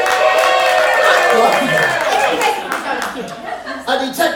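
A theatre audience at a live improv rock-opera show claps and chuckles to vote for the Amazon rainforest, a dense burst of applause mixed with laughter that thins toward the end.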